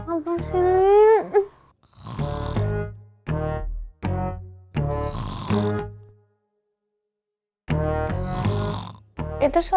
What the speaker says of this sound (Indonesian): Itu suara ngorok.